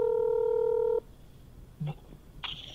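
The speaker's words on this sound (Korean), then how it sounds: "전화해서 한번 물어볼까요?" Telephone keypad dialing before a call: a steady multi-tone dial tone holds for about a second, then cuts off, followed by a short low blip and a rising higher tone near the end, no talking.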